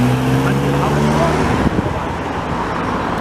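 A 2007 Porsche Boxster S with a 2.7-litre flat-six engine sounds as a steady, fairly loud engine tone on a city street, with a low harmonic drone fading after a second and a half into broadband road noise.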